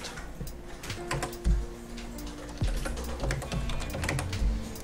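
Computer keyboard typing while dimension values are entered into AutoCAD drafting software, a steady run of close, light key clicks with a few heavier thumps from the enter key, heard alone.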